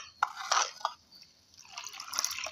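Water poured from a container into thin buttermilk for a masala neer mor summer drink, giving a few splashy pours in short bursts, a pause, then a longer trickling fill, close and fairly quiet with no talk.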